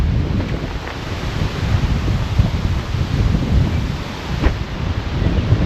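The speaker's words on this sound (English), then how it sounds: "And just like that, the wind's picked up." Steady wind roaring and rumbling outdoors ahead of a storm, with gusty low-end buffeting, continuous and fairly loud, with brief louder surges.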